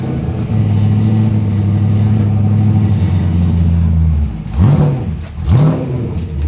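A Warspeed-built V8 engine in a SuperUte race ute idles with a deep steady drone, then blips the throttle in two sharp revs that rise and fall, loud and close.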